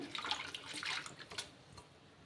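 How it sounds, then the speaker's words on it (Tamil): Drumstick leaves being rinsed by hand in a bowl of water, a close, continuous wet splashing and swishing with small sloshes, no voices. "இந்த பவுலில் போட்டு நல்லா ரெண்டு மூணு தடவை அலசி எடுத்துக்கோங்க"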